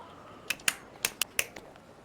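Five sharp hand claps spaced unevenly over about a second, fairly faint and close, with no talking.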